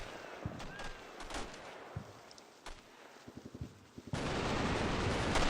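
Soldiers firing in a turn-based PVP war game, with a scatter of sharp gun reports through the first half, a quick burst of rapid shots near the end, then a steady loud roar of sustained fire.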